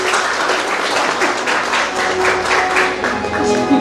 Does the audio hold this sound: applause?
yes